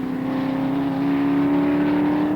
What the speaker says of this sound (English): this is the best sounding car out here.